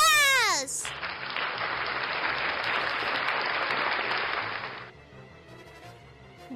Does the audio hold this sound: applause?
yes